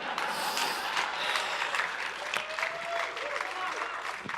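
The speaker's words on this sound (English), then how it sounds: "Just in case the cheering didn't indicate that" A live audience at a tabletop gaming convention theatre cheers and applauds after a dice roll, a dense, sustained roar of clapping and shouting with some speech mixed in.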